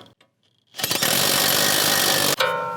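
A 21 mm socket on a ratchet or impact tool tightens the front brake caliper bolt on a RAM 1500 DT during a lift kit install, producing a loud, steady mechanical rattle for about a second and a half before it cuts off abruptly.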